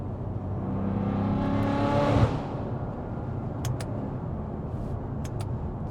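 A loud BMW M5 accelerates hard through a tunnel, its engine note rising in pitch for about two seconds before backing off into a steady echoing drone with faint whirs; no voices.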